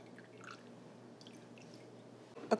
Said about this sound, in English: A good splash of vanilla.